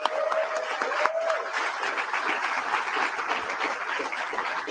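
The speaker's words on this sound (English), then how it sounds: "Give her a round of applause" A crowd at a political rally in Hamilton, Ontario, claps warmly for a woman being introduced, producing a dense, continuous patter of applause with a brief cheer near the start.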